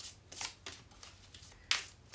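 Tarot cards are shuffled close up, with several quick papery riffles and slaps in short bursts, one sharper snap near the end, and no talking.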